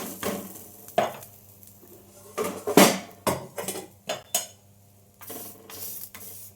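A spatula scrapes and clanks against a pan while leftover roti pizza is flipped over a low gas flame, giving a few sharp metallic knocks and rattles separated by quiet gaps, with no talking.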